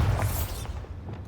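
A Bombarda spell explosion in the video game Hogwarts Legacy gives a short, loud booming burst that rumbles briefly and fades within about a second.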